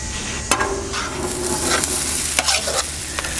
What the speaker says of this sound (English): So let's go ahead and start with some oil, and we're gonna get these potatoes down first.